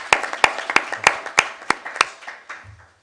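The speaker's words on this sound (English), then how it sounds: "I think we should all give everybody a round of applause for that." Meeting participants give a short round of applause: about eight loud, evenly spaced claps, close, then a few softer claps trailing off.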